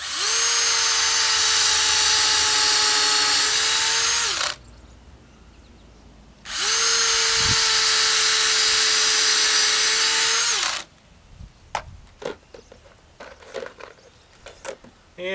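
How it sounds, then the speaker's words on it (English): A power drill pre-drills pilot holes in wood for a seedling-tray shelving unit, two loud sustained whirring runs of about four seconds each separated by a pause, followed by scattered clicks and handling knocks. "We're going to pre-drill a couple of pilot"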